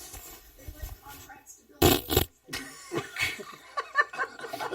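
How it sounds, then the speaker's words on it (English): A recorded fart plays back from a phone voice recorder, one short, loud burst in the middle of the clip, with quiet chatter and chuckling around it. "That's definitely a fart."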